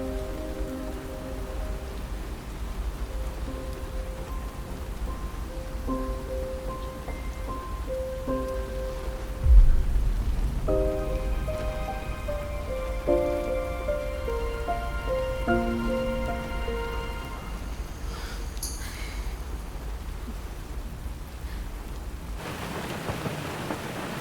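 Steady rain pours on surfaces throughout, with a deep roll of thunder breaking in about midway and rumbling off, while faint tones sit beneath the downpour.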